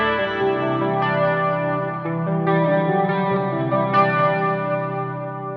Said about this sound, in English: So this is what it sounds like on the bridge pickup.